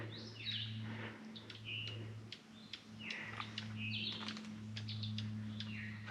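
A small bird on a branch during a mountain day hike gives repeated short chirps and fussing calls, set over a steady low hum in the background.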